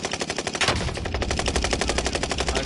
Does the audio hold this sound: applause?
no